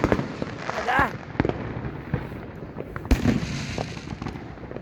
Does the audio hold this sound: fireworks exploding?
yes